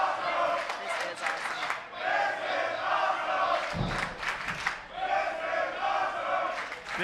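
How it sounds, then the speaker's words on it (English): A women's wrestling crowd at a live event cheers and chants loudly for Delilah Doom, swelling in waves with a brief dip in the middle, the roar continuous and near. "This crowd is absolutely behind Delilah Doom, the former Inner City champion."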